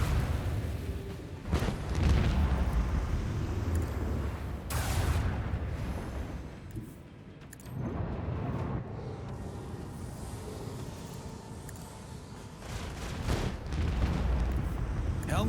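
Torpedo explosions in the video game Warhammer 40k: Rogue Trader: deep rumbling booms that swell and recur across the stretch over a steady low background, fairly loud, with faint voices mixed in.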